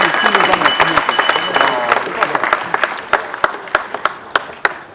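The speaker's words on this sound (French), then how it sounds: "Est-ce que vous pouvez applaudir très très fort pour M. Mars Kadiombo à la Ligue?" Mourners at a Congolese comedian's funeral applaud Mars Kadiombo, a loud burst of crowd clapping under babble and a voice that thins out into scattered, separate claps toward the end.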